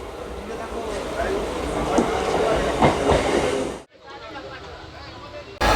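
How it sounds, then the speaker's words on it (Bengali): A train pulls into Ramrajatala station, its loud, rumbling rolling noise mixed with clattering wheels and crowd voices, cut off abruptly before a quieter, steady rumble continues. "ট্রেন চলে এসছে"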